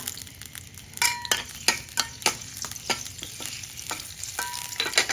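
Smashed garlic hits hot oil in a wok and sizzles loudly while a utensil scrapes and clinks against the pan in a quick, uneven stirring rhythm.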